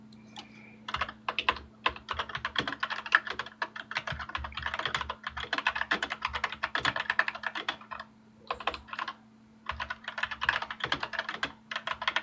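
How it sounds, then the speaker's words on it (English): Fast typing on a computer keyboard, with crisp, close clicks coming in dense bursts separated by short pauses, over a faint steady hum. "The sound of the keyboard is kind of awesome."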